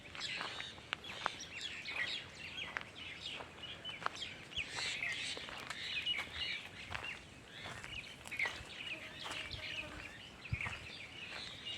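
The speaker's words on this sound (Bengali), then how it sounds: "পরন্ত বিকেলে বিভিন্ন পাখির আওয়াজ কলতান" Assorted birds call and chirp through a palash forest on a late afternoon, a steady busy chorus of high twittering notes with scattered sharper calls over faint background rustle.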